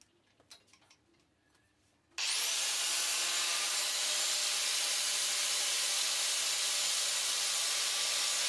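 A guayabira wood axe handle is worked and cleaned: a few light taps and scrapes, then an abrupt, loud, steady abrasive rush that carries on unbroken and close by.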